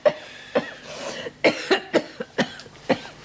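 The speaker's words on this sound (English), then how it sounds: "How long have you had that cough?" A woman coughs repeatedly in a quiet indoor room, a run of roughly eight sharp, dry bursts spaced unevenly, close and clear with no talking over them.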